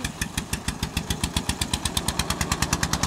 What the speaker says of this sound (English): Oh mate's there on his little tractor.